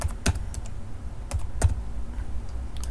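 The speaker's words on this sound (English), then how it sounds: "type in the date" Keystrokes on a computer keyboard while entering a date in an engineering drawing's title block: a few scattered, sharp clicks in short bursts over a low room hum, close and clear, with no talk.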